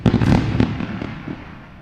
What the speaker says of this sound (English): Celebration time with fireworks.